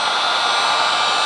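A loud, steady rush of blown air from a heat gun used to remove old window tint, constant and close, with no talking.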